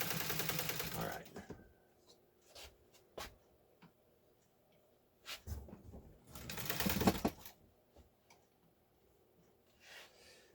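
A Class 15 sewing machine stitches fabric in short bursts of rapid mechanical ticking and whirring, separated by quiet pauses and scattered light clicks.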